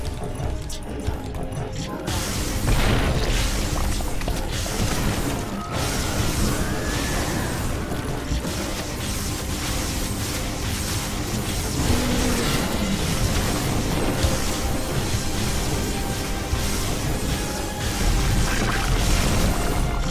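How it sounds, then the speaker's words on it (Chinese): Rumbling explosions and booming blasts from the StarCraft II mission 'Dusty Secrets' on hard difficulty, a dense, loud barrage of crackling game effects, with a player talking over it. "这个又爆炸，是怎样？"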